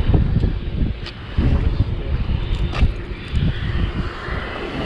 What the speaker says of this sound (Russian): Надуло сегодня ветра немного